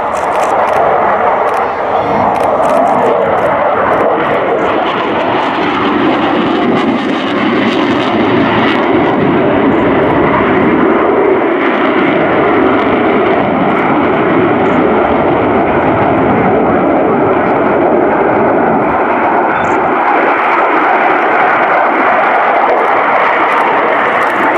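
A MiG-29 Fulcrum's twin jet engines in dry, unreheated power during an airshow display, a loud continuous roaring rumble that swells and shifts slightly as the fighter passes.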